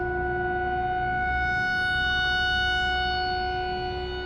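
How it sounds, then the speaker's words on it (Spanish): A loud, monotone air-raid siren wails steadily with an eerie echo, its sustained tone holding for the whole stretch with no voices over it, heard suddenly on an evening in a village. "Era más como una sirena de ataque aéreo con un eco espeluznante"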